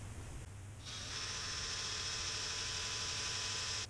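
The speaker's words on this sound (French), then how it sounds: "Ça a l'air de percer un peu mieux." An electric drill bores into the gear knob of a 1988 Dodge Ram D150, its steady high whine starting abruptly and holding evenly over a low background hum.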